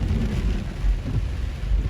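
Heavy rain pours steadily during flash flooding on a city street, with low rolling thunder rumbling beneath it in swelling waves.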